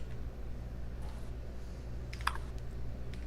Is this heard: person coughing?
no